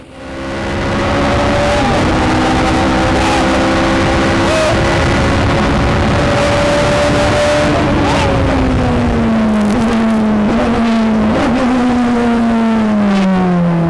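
An Indy race car engine roars loud and close on track, holding a strained high drone while gear changes and throttle shifts come through, then the pitch sags toward the end as the car slows.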